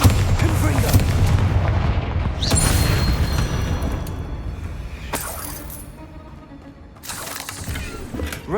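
Spell blasts in Hogwarts Legacy, with heavy booming explosions and shattering bursts in several waves amid game noise.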